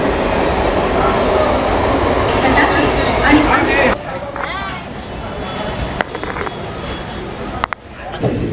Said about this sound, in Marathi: आता आपली ट्रेन दादर स्टेशनवरून सुटली आहे